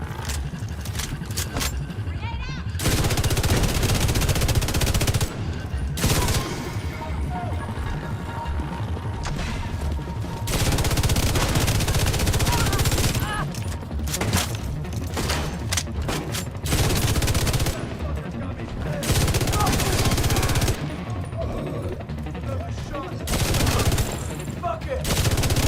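The Iron Lung exotic light machine gun from The Division 2 fires incendiary rounds in long sustained bursts, loud and close, with short pauses between strings of rapid automatic fire.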